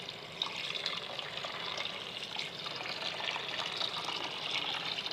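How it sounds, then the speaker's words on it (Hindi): Water pours steadily into a cooking pot while chicken soup is being made, a soft continuous splashing and trickle heard close but faint, with no talk. "और अब इसमें डाल देंगे पानी।"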